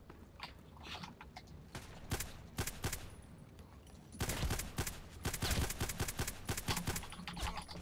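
GSH-18 pistol shots ring out in the video game Contact Wars, sharp reports coming singly and in quick bursts, with denser volleys in the second half over quiet background.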